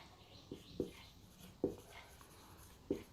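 A pen or marker writing on a poster, with a few soft scratchy strokes and taps spaced apart, faint and close against a quiet background.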